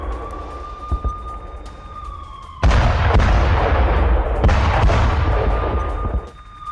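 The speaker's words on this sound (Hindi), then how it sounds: "यूक्रेनी हमले के बाद रूसी पोस्ट में धमाका हो गया" A sharp, loud blast from an attack on a Russian military post in the Ukraine war bursts in after a steady tone, followed by a rumbling, noisy aftermath and a second heavy impact.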